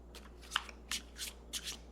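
Animal spirit oracle cards are riffled and shuffled by hand in quick, bright bursts of papery flutter, close and clear over a low steady hum, with no talking.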